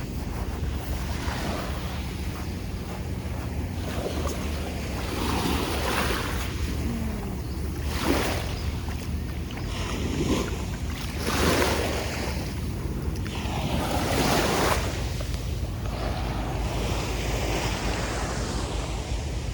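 Sea waves wash onto a sandy beach, a continuous surf roar with repeated swells rising and falling, mixed with wind buffeting the microphone.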